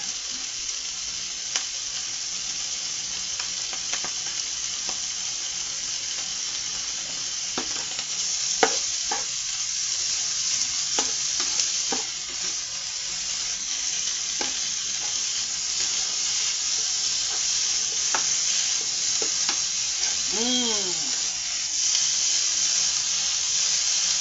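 Onions and spices sizzle steadily in a pan, with scraping stirs and clinks of a utensil against the pan recurring over the continuous frying hiss.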